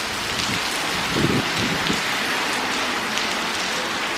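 Rain falls steadily, a dense, loud hiss of drops on surfaces with a few heavier patters, and no voices.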